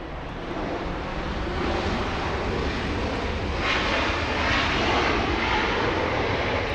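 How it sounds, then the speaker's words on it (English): An American Airlines jet inbound from Philadelphia to Los Angeles International roars loudly and steadily with broadband engine noise, swelling slightly toward the middle, with no voices. "Here we have American Flight 1315 inbound from Philadelphia"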